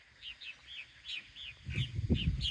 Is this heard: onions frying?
no